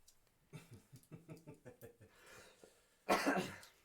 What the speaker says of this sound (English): Gotta keep coughing.